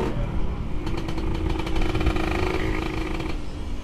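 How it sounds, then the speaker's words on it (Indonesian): A road-race motorcycle with a Killer Whale aftermarket exhaust idles and blips nearby, its loud, rough exhaust crackling with rapid pulsing firing, sustained throughout. "Dia suaranya benar-benar persis kayak knalpot standar bobok buat road race."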